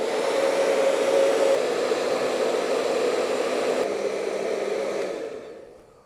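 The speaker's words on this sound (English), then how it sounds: "Hair dryer." A hair dryer blows steadily at close range to heat the limbs of a vintage American Girl doll, a loud even whoosh that fades out toward the end.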